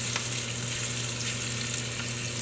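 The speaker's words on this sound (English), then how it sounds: "So once I sear this, I'm gonna cover it" Chicken sears in a hot pan with herbs, a steady loud sizzle and crackle running continuously, with a low hum beneath it and no talking.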